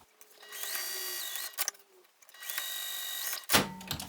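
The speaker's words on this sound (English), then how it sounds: "I'm just going to sew both of these short ends together" A sewing machine stitches the short ends of a fabric satchel together in two near, steady runs of whirring motor hum, separated by a brief pause, with a clunk near the end.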